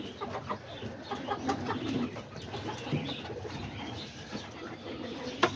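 Homing and roller pigeons cooing and clucking in a loft, a steady, murmuring chorus of soft birdcalls at moderate volume with no talking.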